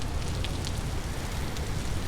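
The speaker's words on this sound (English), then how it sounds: "I like the sounds of the rain" Steady rain in the video game Vintage Story hisses evenly throughout, a dense wash of falling drops with no pauses or other sounds.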